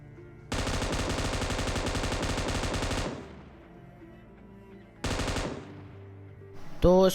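Automatic gunfire in the PUBG Mobile battle royale game: a long, loud, rapid burst of machine-gun fire, a second shorter burst a couple of seconds later, then a sharp final shot or impact.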